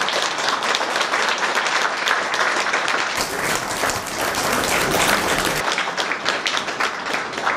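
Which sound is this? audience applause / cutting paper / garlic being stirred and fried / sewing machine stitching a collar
audience applause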